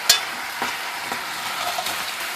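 Chicken searing in a pot with sugar, giving a continuous crackling sizzle, with a sharp clink at the start and a few soft stirring scrapes.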